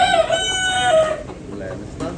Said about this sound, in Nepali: गाइस यहाँ भाले भाँसेको है,